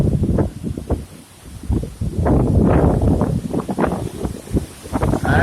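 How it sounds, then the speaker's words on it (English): Strong wind of roughly 60 miles per hour gusting against a roof, surging and buffeting loudly in uneven bursts with a brief lull. "That's a 60 mile an hour wind."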